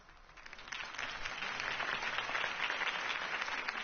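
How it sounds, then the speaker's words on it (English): Crowd applause follows a mayoral campaign speech in a Batman game, a steady wash of clapping from a large audience that swells and holds for several seconds with no voices over it. "could have heard that applause"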